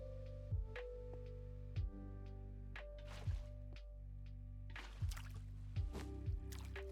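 Water poured from a bucket in Minecraft with the Create mod: five short, soft splashing gurgles at uneven intervals over a steady low background hum, close and fairly quiet.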